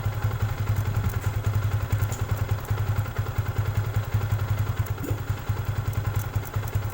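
A Yamaha Vixion New motorcycle engine idles close by with a steady, even low thrumming pulse and light mechanical clatter throughout, no voices.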